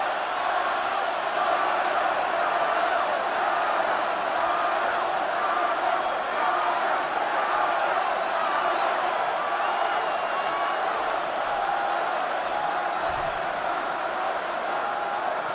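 Packed football stadium crowd at a 2009 Vikings at Packers game, a sustained steady roar of cheering and chanting voices urging an injured Donald Driver up, loud and continuous throughout.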